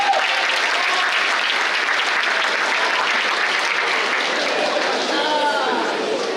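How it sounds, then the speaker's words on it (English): A school audience bursts into steady, sustained applause for a guest speaker, a dense wash of many hands clapping without pause, with some cheering from the crowd mixed in. "Give him a round of applause."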